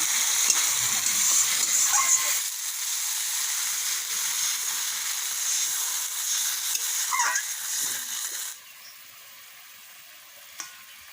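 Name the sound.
koi fish frying in a pan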